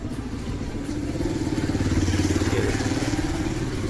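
A motorbike passes along a road, its mid-pitched engine drone swelling and pulsing as it draws close, loud and steady through the moment with no talk over it.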